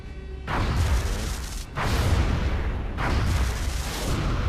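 Interceptor aircraft in the X-COM strategy game firing at a UFO: three loud, sustained bursts of dense gunfire-like roaring, each cutting in sharply and running about a second and a half, with no talk.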